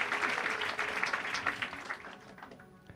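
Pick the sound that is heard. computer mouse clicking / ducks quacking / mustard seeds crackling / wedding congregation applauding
wedding congregation applauding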